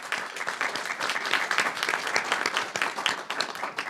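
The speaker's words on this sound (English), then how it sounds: "I really want to give an applause to the city of Kirkland for making that change" An audience at a Kirkland city council meeting gives steady, moderately loud applause, with many overlapping claps continuing evenly throughout.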